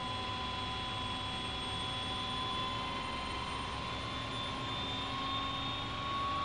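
An OH-6 helicopter turbine runs up to about 70% N1 during start-up, a steady loud whine with high tonal hum and broad rushing noise, constant and close, no voices.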